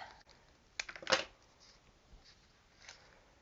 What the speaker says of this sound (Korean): 이렇게 자르겠습니다.